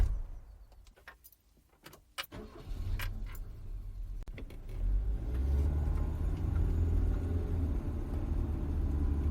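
Clicks and key jingles come first, then a car engine starts and settles into a steady low rumble as the car pulls away, close and continuous.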